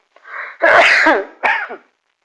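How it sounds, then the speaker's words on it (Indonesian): A single loud, close cough in a couple of harsh bursts, ending in a brief rasp, with silence after. "Maaf ya, batuk"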